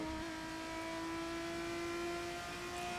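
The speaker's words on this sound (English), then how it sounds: "Listen to that engine going into those RPMs." An F3 single-seater race car engine at Imola in a sim racing game, a sustained high-pitched engine whine holding near-constant revs throughout, loud and steady with no voices.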